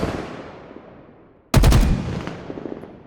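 Gunfire from the video game Halo Infinite: a loud, sudden burst of rapid shots that breaks in halfway through, each round slightly separated, with a quieter sound bed fading beforehand and a decaying tail after.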